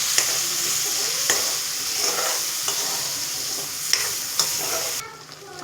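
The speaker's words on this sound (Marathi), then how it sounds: "कोथिंबीर लसूण अद्रकची पेस्ट टाकली आहे आता फोडणीला" Coriander, garlic and ginger paste sizzles steadily in hot oil as a spice tempering, with a few spoon scrapes and stirs breaking through the frying hiss before it eases off near the end.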